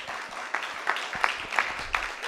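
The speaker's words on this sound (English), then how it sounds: "A round of applause for them." Steady applause from a school debate audience, a dense wash of clapping with a few sharper claps standing out, continuous throughout.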